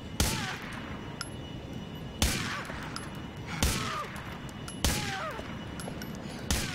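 Gunfire from Grand Theft Auto IV, five sharp, loud single shots spaced about a second or more apart, each with a short ringing decay over faint game background.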